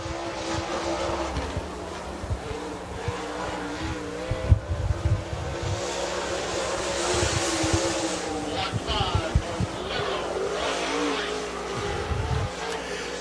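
A Super Late Model race car on a qualifying lap at Dixie Speedway, its engine droning and surging at a distance under an announcer's voice, with bursts of louder revving.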